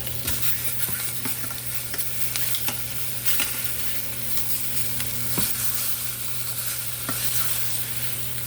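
Oxtails sear in a hot pan with a steady, loud sizzle, and occasional sharp clicks and scrapes sound as the pieces are turned over. No one speaks.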